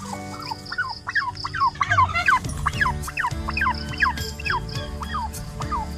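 Newly hatched turkey chicks peeping in a repeated series of high, rising chirps, several birds overlapping close by with some lower gobble-like sounds and no talk.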